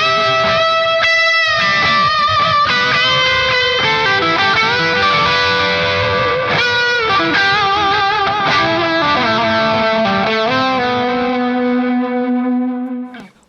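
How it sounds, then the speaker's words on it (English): An electric guitar played through an Ernie Ball Ambient Delay pedal rings out in sustained, echoing chords and notes with lush repeats and reverb, loud and alone, trailing off at the end. "if you're in the market for a delay pedal, you got reverb, you got delay, and you can adjust it on the fly"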